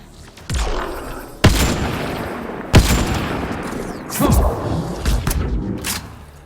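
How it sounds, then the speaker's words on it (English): Gunfire in the video game Mass Effect Andromeda: bursts of shots and sharp impacts with booms and whooshes, loud and close, several heavy hits spread across the stretch. "I don't even know who's shooting at me"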